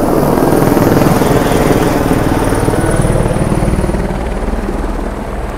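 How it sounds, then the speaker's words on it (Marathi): A helicopter takes off from a nearby helipad on the Vaishno Devi route, its loud rotor thump and turbine roar filling the air and easing slightly as it pulls away, with no talking. "इथून बाजूनेच हेलिकॉप्टर टेक ऑफ करत आहे, तर आम्हाला 5-5 मिनिटाला आवाज येत आहेत."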